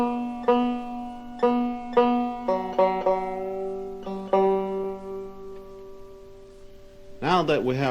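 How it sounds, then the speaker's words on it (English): Five-string banjo, tuned with its tuners set at the high position in G tuning, sounds a series of separate plucked notes and a held chord that rings and decays, followed by a brief voice at the end. "first tune them at the high position in G tuning"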